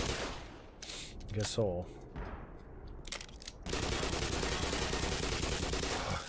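Automated turret gunfire in Black Mesa: a few short bursts early on, then a steady rapid stream of machine-gun fire filling the last few seconds, with a player speaking briefly between shots.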